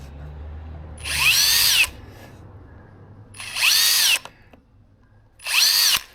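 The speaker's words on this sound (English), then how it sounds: "So let's drill those out." Power drill boring holes in a wooden Mirror dinghy during repair: three separate bursts of high whining drilling, each about a second long, loud and close, with quiet pauses between.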